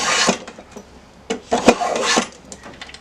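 A repaired hand plane takes even shavings off a wooden board, sounding as a few close, rough, rasping strokes of a second or less each, separated by short pauses.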